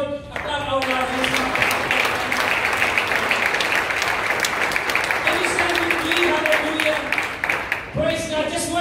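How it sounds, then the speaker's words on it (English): A church congregation claps their hands in praise, a steady dense patter of many hands throughout, with a voice speaking and calling out over the clapping at the start and end. "Can we give our Lord a clap of our hands?"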